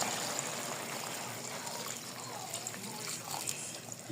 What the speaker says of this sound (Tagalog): Lagyan natin yung kakang gata